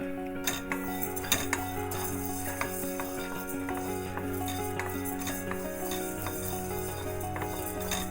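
Whole coriander seeds dry-roast in a hot kadai for a mutton vindaloo spice mix, with continuous close rattling, metallic scraping and clinks of stirring over a soft steady hiss. No one speaks.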